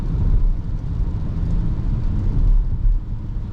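Engine of a 2024 Peugeot 2008 GT facelift with PureTech power under acceleration, a steady low rumble and whir heard from inside the cabin, continuous and moderately loud with no talking.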